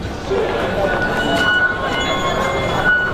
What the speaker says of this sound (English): We are taking the subway on our way to Temple Street Night Market.